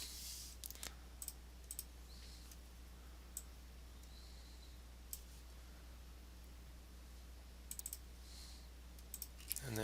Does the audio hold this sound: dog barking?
no